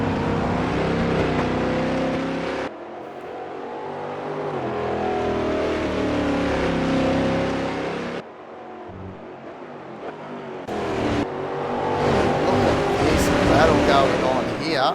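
Stock car engines roar through an uphill section into a turn during a Brazilian StockCar Series race at Velo Citta in a racing video game, a loud continuous drone shifting pitch with gear changes while a commentator talks over it throughout.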